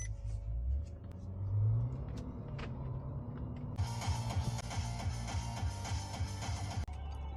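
A car starts moving with a low engine rumble under creaks and mechanical clicks. A broad, louder road and engine noise then builds and holds to the end.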